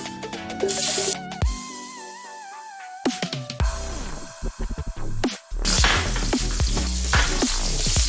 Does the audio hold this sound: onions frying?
yes